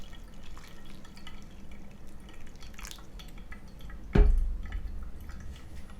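Hot water drips gently through a pour-over coffee brewer, a faint trickle in a quiet room with one brief louder splash near the end.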